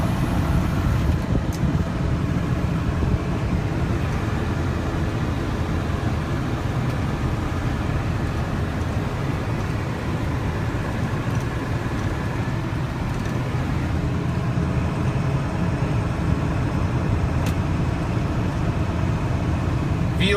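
A lifted Ford F250 with a 7.3 diesel engine cruises in overdrive with the windows rolled up. A steady, loud low rumble of engine and road noise runs unbroken inside the cab, with no talking.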